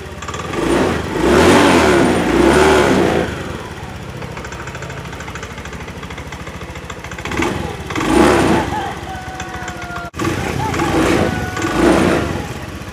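A Honda Vario 110 fuel-injected scooter engine with water in the fuel tank sputters and revs in uneven bursts, dropping to a low idle between, recorded close up.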